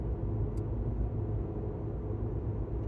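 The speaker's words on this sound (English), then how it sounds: "in my EV, my 2022 Chevy Bolt 2LT all electric vehicle, going 62 miles an hour." A 2022 Chevy Bolt 2LT electric car cruising at 62 mph fills the cabin with a steady low road rumble and tire hum. No engine note sits over it, and it stays constant and fairly loud throughout.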